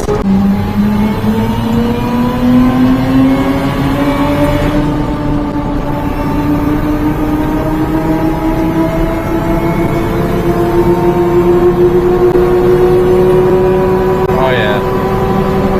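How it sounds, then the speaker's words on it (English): A boosted mini-truck engine running at about 11 to 12 pounds of boost revs and climbs steadily with a droning, rising tone, loud and close, with a brief spoken exclamation partway through. "I can hear detonation now when I push up over 11"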